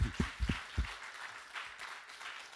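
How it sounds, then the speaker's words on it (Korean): A church youth-service congregation clapping for cell leaders, starting with a few loud close claps that quickly fade into softer, scattered clapping. "우리 다 같이 박수 한번 쳐주세요."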